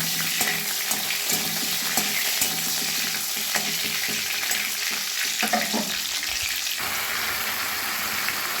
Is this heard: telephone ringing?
no